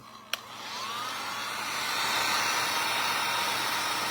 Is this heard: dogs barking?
no